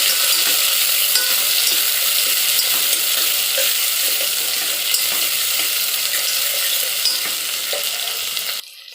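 Chopped onion sizzles in a hot pan, a continuous loud frying hiss with small crackles that runs unbroken for several seconds before trailing off at the very end.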